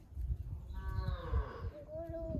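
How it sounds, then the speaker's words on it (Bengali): A cow in a village gives one drawn-out moo from a short distance, rising then tailing off, over low rustling and handling noise in the open air. "ওই যে গরু তো চিল্লাচ্ছে।"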